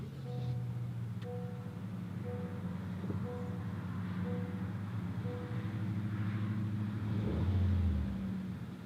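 A 2018 Honda Accord LX, started by push button, runs with a low, steady engine hum from inside the cabin, swelling slightly near the end, with no talking.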